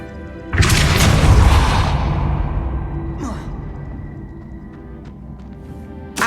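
A Depulso spell cast in Hogwarts Legacy lands as one loud, deep boom with a whooshing burst. A long rumbling echo slowly fades, and a faint whoosh follows a few seconds later.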